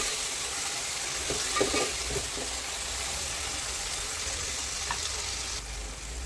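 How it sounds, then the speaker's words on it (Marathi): Green chillies frying in oil with chopped tomatoes tipped in, giving a steady hissing sizzle with a few soft thuds and stirring knocks early on, fairly quiet and unbroken. "मिरची फ्राय झाली आहे तर मी याच्यात टमाटर टाकते"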